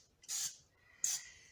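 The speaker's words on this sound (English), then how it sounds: "I'm going to spray the inside of it." Cooking spray is squirted inside a measuring cup in a kitchen while making homemade granola: two short, close hissing bursts separated by a brief pause, in an otherwise quiet room.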